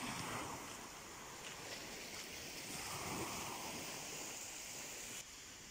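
Gentle surf on the sea at sunrise in Turkey washes steadily against the shore with a constant low hiss and light wind noise, calm and fairly quiet, with no one speaking.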